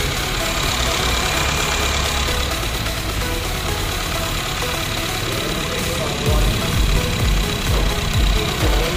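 A Honda i-VTEC engine idles steadily after its valve cover and O-ring are refitted, giving a loud, continuous mechanical rumble close to the microphone, with light knocking and a slight lift in the low end toward the end.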